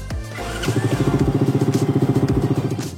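A small engine on a CFMOTO CFORCE 110 children's ATV cranks briefly, then catches and settles into a fast, steady putter, close by and fairly loud.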